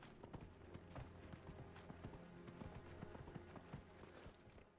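Horse hooves clip-clopping in the video game Dragon Age Inquisition, a faint, quick, continuous patter of steps beneath a dense wash of game background sound.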